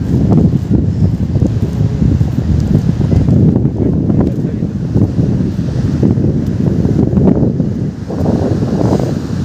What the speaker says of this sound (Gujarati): જોરદાર પવન છે મિત્રો, કેમ કે દરિયો કરંટમાં છે ચોમાસાના હિસાબે